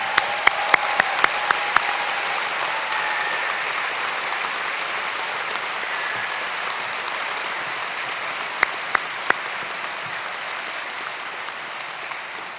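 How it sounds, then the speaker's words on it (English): Audience applause at a university graduation ceremony, sustained even clapping from a large crowd in a hall, with a few sharper nearby claps standing out at the start and again near the end. "I think you all deserve another round of applause."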